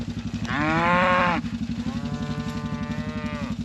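Cattle moo on a farm, two long close bellows in a row, the first louder and higher, over a steady rhythmic mechanical thumping in the background.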